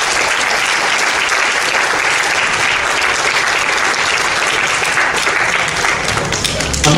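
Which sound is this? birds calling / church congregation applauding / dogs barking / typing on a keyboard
church congregation applauding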